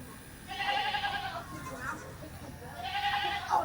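Goats being readied for a county fair show bleat in two long, wavering calls, one near the start and another near the end, heard close over a steady background.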